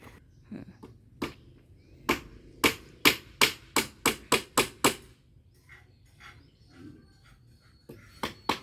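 A hammer pounds wood while building timber formwork for a concrete house beam, with a few scattered blows, then a quick, even run of about nine sharp strikes, a pause, and a couple more hits, all fairly close.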